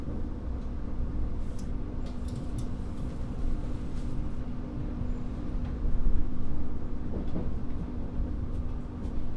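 A passenger train runs through Bekasi station with a steady, loud rolling rumble and rattle heard from on board, swelling briefly louder partway through as it passes the Tegal Bahari train.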